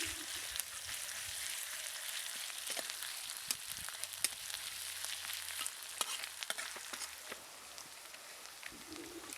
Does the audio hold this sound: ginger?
yes